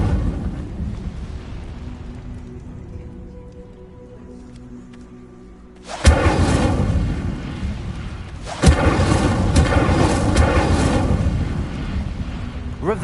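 In Hogwarts Legacy, the Incendio fire spell goes off twice as sudden loud whooshing bursts of flame, each flaring and then sustaining a crackling roar, following a quieter stretch of low ambient hum.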